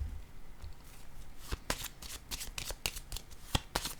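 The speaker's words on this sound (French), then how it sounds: "Là, je vais déposer une carte sur le guide." Tarot-style cards are handled and laid down during a card reading, a series of crisp papery snaps and slaps in an uneven rhythm, close and fairly quiet.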